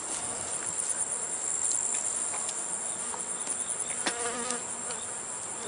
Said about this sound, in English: You can see the bees are hitting the water bucket.